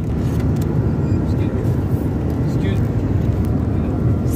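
A steady, loud low roar of an airliner cabin in flight fills the background, a constant droning rumble, with a voice talking over it at times.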